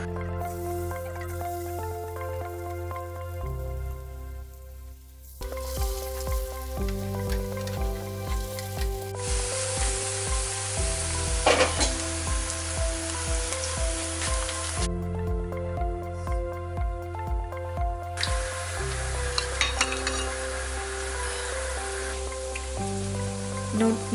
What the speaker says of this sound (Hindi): सूप के लिए मैं नूडल बना रही हूँ। इसे फ्राई करूँगी